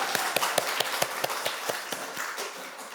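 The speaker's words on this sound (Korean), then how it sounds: "자, 우리 다 같이 박수. 우리 장로님께 박수" A church congregation claps together during a Sunday worship service, a series of evenly spaced, fairly sharp claps in a steady rhythm that gradually softens over a few seconds.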